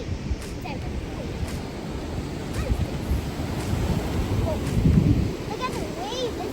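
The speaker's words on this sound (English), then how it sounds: "Look at the waves, they're so crazy." Ocean waves crash and wash up the sand on a beach in Bentota, making a continuous rumbling surf with gusts of wind against the microphone and faint voices.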